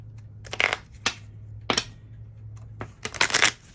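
Crisp bursts of cards being riffled and shuffled, several separate flurries with short gaps, close by over a low background hum.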